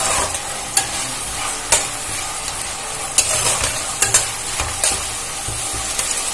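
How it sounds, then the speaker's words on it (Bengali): Finely chopped onions fry in a pan with a constant loud sizzle, broken by a few sharp knocks of a spatula stirring them. "যতক্ষণ পেঁয়াজটা ভাজা হচ্ছে"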